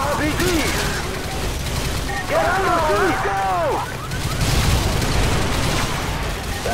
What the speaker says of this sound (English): Squad, put suppressing fire on that house!